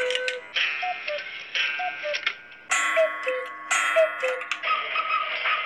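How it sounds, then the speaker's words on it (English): Cuckoo clock as a story sound effect, a little bird popping out and singing: a steady ticking rhythm under repeated two-note chime-like calls in several bright, loud bursts, with no talk. "Out popped the little bird, sing, and turn back, and the door shut, like this."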